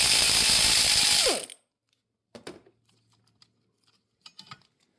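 A ratchet works bracket bolts loose on the 3.6L engine of a 2018 Jeep Wrangler Rubicon, giving a loud, fast, continuous clicking burst, then silence broken by a few sparse metallic clicks and taps.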